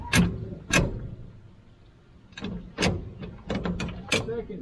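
A three-speed column shifter clunks through its gears in a series of sharp, close metallic knocks and clicks, spaced irregularly over a few seconds with a quiet gap in the middle and no talking.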